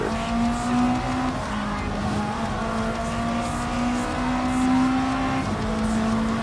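Race car engine droning at steady high revs with tire noise in Gran Turismo 7, a continuous loud buzz with slight pitch shifts, no voices.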